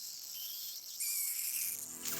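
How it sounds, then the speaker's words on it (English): Mosquito wings buzz in a thin, steady high whine that holds for about two seconds, faint and alone with no voices. "mosquitoes are bound to buzz."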